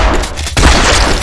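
Gunshot in the zombie shooter Zompiercer at close range, a loud sudden boom that cuts in midway and carries a dense, ringing tail.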